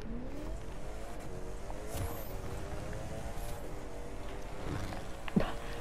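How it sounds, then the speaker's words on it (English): A video game race car with engine roaring at speed zooms past, its revving pitch sliding steadily with a faint tire squeal, loud and continuous for several seconds. "I just heard your engine."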